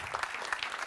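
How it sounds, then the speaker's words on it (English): Audience applause at a panel event on the US elections, as a crowd claps steadily and densely for a full second, a continuous wash of close hand claps with no talk over it. "Give him another round of applause"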